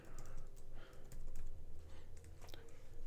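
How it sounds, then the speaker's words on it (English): Rapid clicking of keys on a computer keyboard as someone types a query into a log analytics editor, steady irregular taps close to the mic with no voice over them. "we just begin typing"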